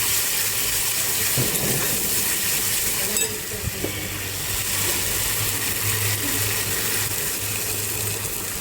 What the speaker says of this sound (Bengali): তেল ছেড়ে গেছে এবার জল দেবো লবণ দিয়ে দিলাম